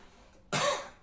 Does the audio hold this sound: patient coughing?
yes